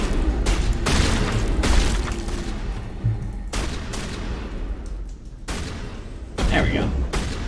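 Shotgun and pistol gunfire in Mass Effect Legendary against zombies, loud repeated booming shots in irregular clusters with brief lulls between, a voice talking over parts of it.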